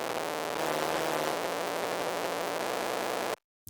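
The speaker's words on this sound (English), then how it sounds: "It literally sounds like kind of like distorted white noise with the original sound" Heavy chorus effect driven hard by its LFO turns a synth sound into a dense wash of distorted white noise, loud and unbroken, cutting off abruptly near the end.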